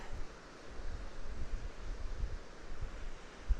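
Strong wind gusts across the exposed moorland edge of Kinder Scout, a steady roaring rush with low buffeting thumps against the microphone.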